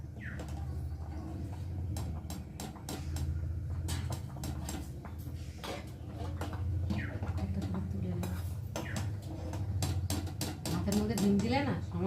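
Boiled eggs are fished out of a pot of cooking rice, with close metal clinks and scrapes against the pot in quick irregular taps over a steady low kitchen hum.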